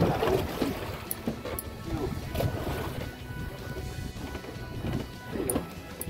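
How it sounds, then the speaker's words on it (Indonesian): Sea waves slap and wash around a small fishing boat at sea in irregular surges, with light knocks against the hull. Voices talk intermittently over the water noise. "Ombaknya juga ini lumayan guys."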